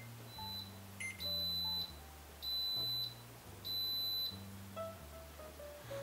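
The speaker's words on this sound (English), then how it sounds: "beep to let us know it's done" Three short, high electronic beeps in a row, evenly spaced, over a low background hum: an Instant Pot pressure cooker signaling cooking is done.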